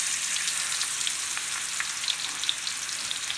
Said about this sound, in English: now that my oil and my butter has heated up, I'm going to go ahead and lay my steaks inside